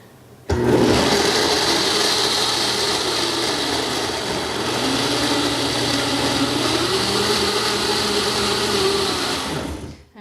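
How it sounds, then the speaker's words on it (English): A kitchen blender whirs at a steady high speed for about ten seconds, pureeing a dairy-free alfredo sauce until smooth, then cuts off. "I'm just going to blend it like I would blend a smoothie until it's really smooth"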